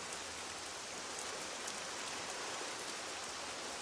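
Steady, dense rain falls on the shoreline of Rurutu in the ocean during days of bad weather. It is a continuous even hiss of drops with no pauses and no voices.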